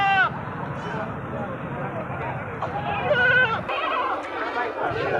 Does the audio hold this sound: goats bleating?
yes